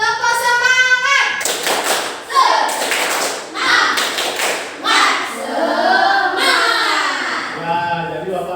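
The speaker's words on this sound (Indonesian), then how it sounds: "kita tepuk semangat dulu ya" A school classroom of children performs a rhythmic spirit clap, bursts of clapping in patterned groups with taps and thumps, mixed with children's chanting voices.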